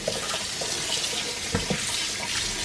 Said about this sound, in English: I just always still give my meat a little rinse